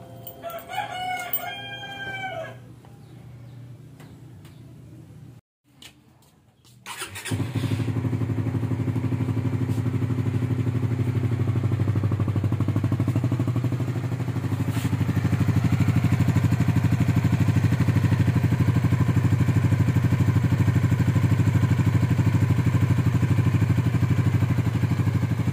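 A Suzuki Raider 150 Fi motorcycle engine settles into a steady, close idle that keeps going to the end. A rooster crows loudly just before the engine starts.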